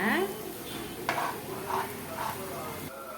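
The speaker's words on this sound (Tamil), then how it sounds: "இதையும் நல்லா வணக்கணும். அப்பதான் நம்மளுக்கு அது கெட்டு போகாது. வணக்கிட்டே இருங்க." Garlic pickle sautés in a pan with a steady oily sizzle while a spoon stirs and scrapes through it, close and continuous, with a light clink near the middle.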